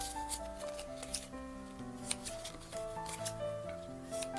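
Scissors snip through a foamiran sheet for a sunflower hair ornament, cutting folded pieces in half; a series of short, crisp clicks recurs every second or so over steady background music.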